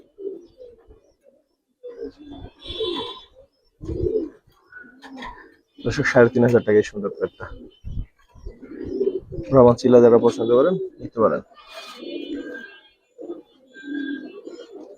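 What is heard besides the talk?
Giribaz pigeons cooing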